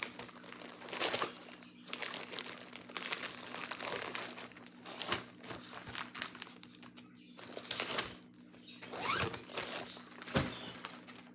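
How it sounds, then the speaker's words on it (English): Craft supplies and embroidery kits being put away make steady crinkling and rustling of plastic packaging, with bursts of louder crumpling and zipper-like scrapes. Quiet handling noise fills the gaps, close by and with no talking. "Sorry for the rustling, I need to put this stuff away."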